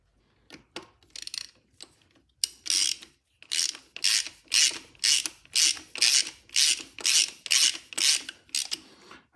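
An aluminum fitting is threaded by hand onto a turbo oil feed line, giving a close run of rhythmic ratcheting clicks that settle into steady, evenly spaced bursts.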